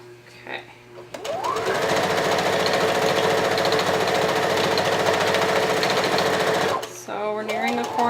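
A sewing machine stitches an easy-to-sew blanket in one loud, steady run of rapid needle whirring lasting several seconds, with brief talk before it starts and after it stops.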